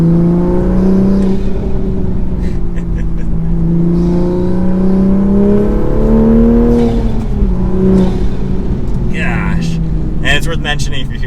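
A Toyota Supra MK5 with a full AWE exhaust and an Arma Speed carbon fiber air intake drives and accelerates under load, a loud, steady engine drone rising and falling with turbo whoosh and whistle near the end, heard from inside the car.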